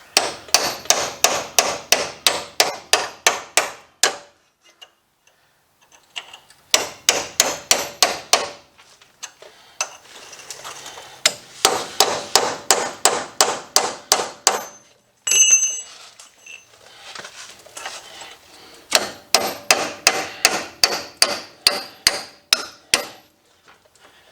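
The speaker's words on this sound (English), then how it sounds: "I'm just going to take a chisel and try to push in here and get this to separate from that upper A-arm" A hammer strikes a chisel in rapid bursts of sharp metallic clanks while separating a ball joint from the upper A-arm of a 1993 Chevy pickup, with brief pauses and quieter scraping between the volleys.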